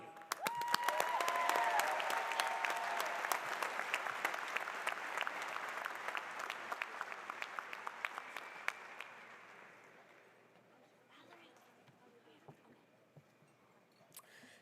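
Applause at a college of agricultural sciences and technology commencement ceremony, a crowd clapping loudly at first and then thinning into scattered claps that fade by the end.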